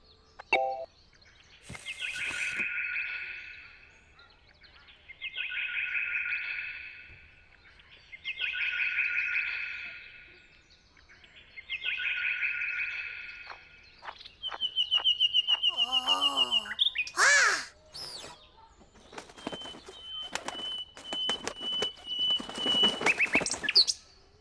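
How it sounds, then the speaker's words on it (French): Birdsong played back from a tablet outdoors: four repeated bursts of steady high chirping, then a rising-falling whistled call and a sharp trill, followed by rapid clicking chatter and more thin high tones. "le chant de l'oiseau avec la tablette, Hélène?"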